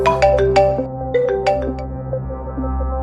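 A phone rings with an incoming call from a funeral home, a loud, close melodic ringtone of bright repeated chiming notes over a steady low hum, playing alone with no one speaking.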